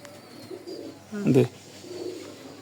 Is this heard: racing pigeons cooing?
yes